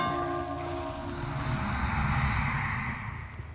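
Bell in the Dead by Daylight video game, a sustained resonant ringing tone that lingers and swells under a steady wash of in-game ambience, with no talk.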